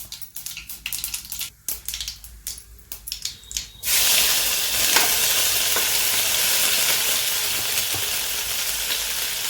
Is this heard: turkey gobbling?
no